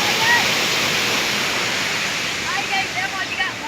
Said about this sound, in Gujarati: હાલમાં તમે જુઓ છો કે એના બીજું પાણી ઠેઠ બનાસ નદીમાં જાય છે